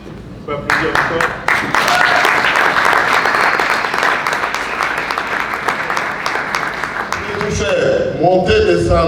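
Guests at a wedding celebration break into loud, steady applause that fills the room for several seconds before voices and chatter rise as the clapping fades.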